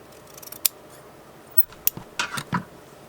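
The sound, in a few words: scissors cutting a piece for a junk journal board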